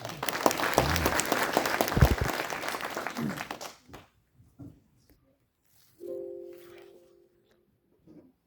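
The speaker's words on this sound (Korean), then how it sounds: "큰 박수로 부탁드립니다." A school audience at a youth policy presentation claps loudly for several seconds, the applause dying out into near silence broken by a few faint thumps and a brief hum.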